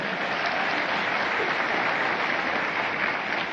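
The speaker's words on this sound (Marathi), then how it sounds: "एकदा तुम्ही तुमच्यासाठी एकदा जोरदार टाळ्या वाजवा" A women's audience at a public speech event in Akola gives loud, sustained applause, a dense, even wash of many hands clapping together with a faint crowd murmur under it.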